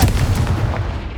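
A Confringo blasting spell explodes in the Hogwarts Legacy video game, a short, loud booming blast with a rumbling tail that fades within about a second.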